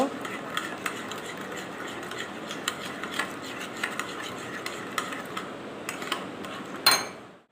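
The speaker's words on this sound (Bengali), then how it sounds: "চিনিটা ভালো করে গুলিয়ে নেব ডিমের সাথে আর লবণের সাথে চিনিটা মিক্স করে নেব" Sugar being stirred with eggs and salt in a bowl, rhythmic light clinks and scraping of a utensil repeating steadily, close and moderately loud, with a sharper knock near the end.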